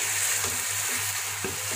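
Mutton pieces browning in a pan for achar gosht make a loud, steady sizzle up close, broken by a few soft stirring scrapes.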